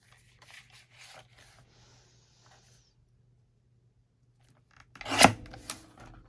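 Scissors cut through junk mail envelope paper in a short, crisp snip that comes close and fairly loud after quiet handling rustles, followed by a few softer cuts.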